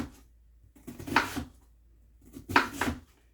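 A knife thinly slices a purple onion on a cutting board for homemade salsa, two soft separate cuts about a second and a half apart, close and fairly quiet.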